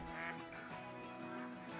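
Ducks quacking in the New England mountains during a hunt, a steady overlapping chorus of calls holding through the whole stretch at moderate distance, with no talk over it.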